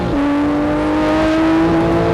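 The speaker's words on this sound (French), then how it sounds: "le moteur pousse dans le dos et déverse toute sa puissance" A Porsche 911 GT3 of the 997 generation accelerates hard, its engine note a loud, smooth, steadily rising whine heard close and alone.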